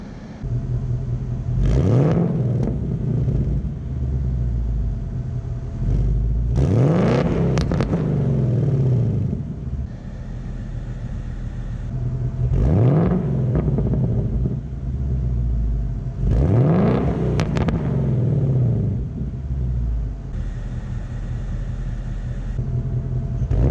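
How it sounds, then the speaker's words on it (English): A Ford Mustang Bullitt's exhaust is revved hard four times, each a rising snarl falling back to a burbling idle. Loud and close, with no talking. "I want to give you guys some exhaust clips so you guys can see what the car sounds like"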